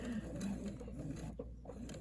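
A domestic sewing machine runs steadily, stitching fabric for reverse appliqué quilting around a circle, its fast mechanical needle clatter continuous and fairly quiet with a brief dip near the end.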